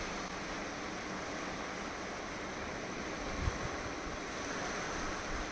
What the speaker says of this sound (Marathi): मग आवाज येते समुद्रांचा.